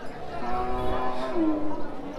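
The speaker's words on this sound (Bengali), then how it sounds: "এই পাশে কিন্তু বেশ কিছু এই গাবি গরু উঠেছে দেখতে পাচ্ছেন" A cow moos loudly and close by, one long drawn-out low call, with faint background murmur, at a crowded Eid cattle market with large bulls in Jamalpur, Bangladesh.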